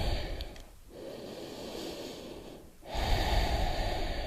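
Deep, audible breaths taken while holding the yoga dolphin pose, slow inhales and exhales close to the microphone over steady background noise, with no talking.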